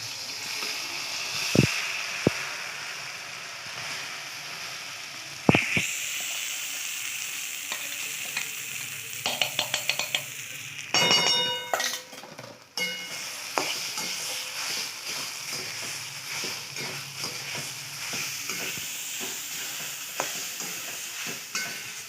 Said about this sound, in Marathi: मिक्सरमधून फिरवलेले खोबरे ओले फ्राय करून घेऊया